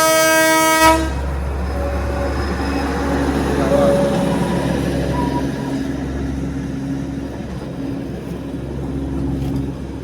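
Darjeeling Himalayan Railway toy train at Rongtong Station in the UNESCO World Heritage area, its horn blaring loud and close at the start, then a steady low rumble as the carriages roll past.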